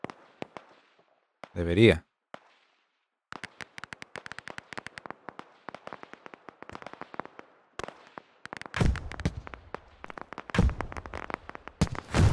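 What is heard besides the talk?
gunshots in a tactical war video game, USA vs Russia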